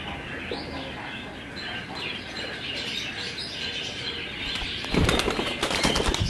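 Juda breed pigeons flapping their wings, soft fluttering and cooing at moderate distance, followed by a burst of louder wingbeats near the end.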